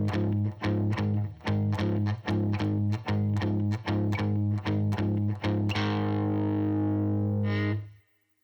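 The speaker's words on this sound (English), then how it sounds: "This is often called a boogie riff because it imitates the boogie-woogie style of piano playing" Distorted electric guitar plays a blues boogie riff that mixes chords and melody, a steady run of loud, evenly spaced chugging notes that ends in a ringing final chord fading out alone.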